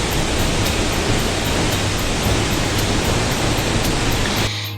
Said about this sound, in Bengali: এত আওয়াজ পড়ছে জলটা দেখুন।